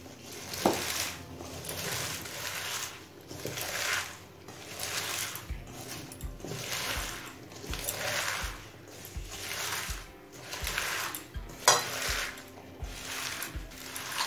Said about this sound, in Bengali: এবার এই নুন দিয়ে শাপলাটাকে খুব ভালোভাবে চটকে চটকে মেখে নেব।